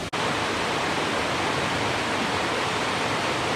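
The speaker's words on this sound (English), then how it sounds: "It's just noisy with all the rushing water." Fast-flowing stream water rushes loudly and continuously close by, a dense unbroken roar lasting the whole stretch with no other sound standing out.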